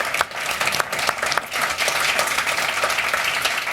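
Conference audience applauds a panel on plastics and waste, a steady dense patter of many hands clapping close by for several seconds with no talking over it.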